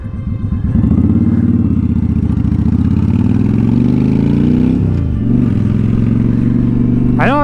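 Honda Shadow motorcycle engine droning steadily while riding, loud and close, with a smooth sustained hum that dips briefly near the end, alone without talk.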